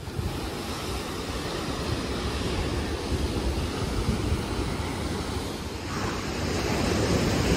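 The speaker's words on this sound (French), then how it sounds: "J'attends que la vague elle passe" Ocean waves on the Madeira coast roll in as a steady, loud, broadband surf roar with wind buffeting, swelling slightly toward the end, and no voices.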